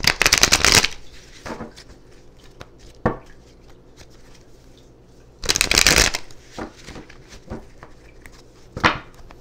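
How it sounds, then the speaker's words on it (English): A tarot deck is split and shuffled close up, with two loud bursts of riffling cards separated by softer taps and card handling. "Splitting the deck."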